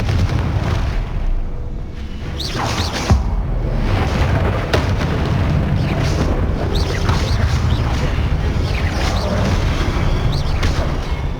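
Confringo blasting spells explode in Hogwarts Legacy gameplay, a loud, continuous stream of booming bursts and crackling impacts, with sharper blasts punctuating the din.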